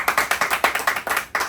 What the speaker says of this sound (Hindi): एक बार ताली बजाओ भाई साहब के लिए।